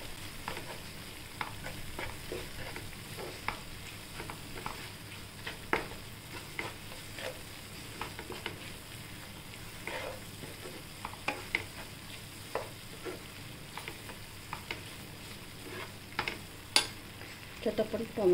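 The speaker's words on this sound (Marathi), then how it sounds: "आता आपण याला परत छान परतून घेऊया सगळं." Spiced vegetables being stir-fried in a pan after chilli, sugar and salt go in, with a soft continuous sizzle and scattered scraping and stirring clicks throughout, fairly quiet.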